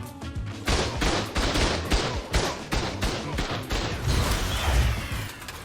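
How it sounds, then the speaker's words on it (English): Automated turrets fire on a player in the video game Ark Survival Ascended, a dense, loud barrage of rapid gunshots in overlapping bursts that continues without pause throughout. "I'll never get used to the feeling of having a bunch of turrets just shoot me up."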